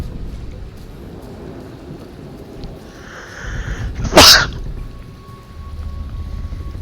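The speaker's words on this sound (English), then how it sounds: "Real bad sneeze." A single sharp sneeze bursts out near the middle, close and loud, with a quiet low rumble of background before and after.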